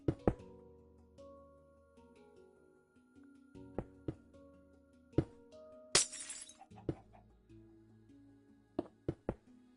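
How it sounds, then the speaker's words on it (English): Glass blocks placed one after another in the Minecraft video game while building an iron farm, giving sharp glassy clicks and shatter-like bursts at irregular intervals over a faint steady background hum. "I usually put glass in so I can see in"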